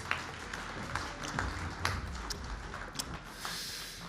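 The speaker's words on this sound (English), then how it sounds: "A big round of applause." Applause at a banking awards ceremony, a sustained wash of audience clapping with scattered sharper claps, fairly steady throughout and fading slightly toward the end.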